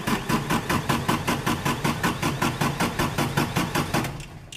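Diesel engine of a Manitou MLT 845 telehandler turning over and starting to catch, a rapid, even pulsing chug about four beats per second, loud and close, then easing off at the end.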